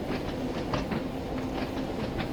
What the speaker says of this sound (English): An actual tube train.